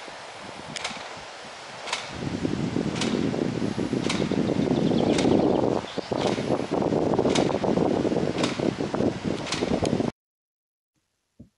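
A Victorian hydraulic ram water pump working at Ingleborough, Yorkshire, gives a loud steady rushing of water, broken by sharp regular clacks of the valve about every second, then stops abruptly.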